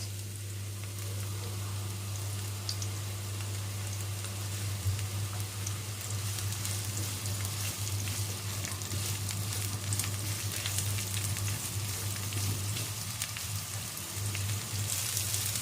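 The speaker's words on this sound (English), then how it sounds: "I'm going to add 1 onion. We're going to fry this for a bit on a high heat." Onion sizzling steadily in olive oil in a pan over high heat, a continuous close crackling fry with a low hum underneath and no talking.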